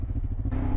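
A 500cc carbureted flat-twin Japanese motorcycle engine throbs while riding, a loud, close, pulsing low rumble with a slight rise partway through.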